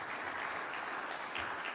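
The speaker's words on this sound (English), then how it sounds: "Another round of applause, please." A seated audience at a poetry prize ceremony applauds after a reading, giving a steady, fairly soft patter of clapping with no talk over it.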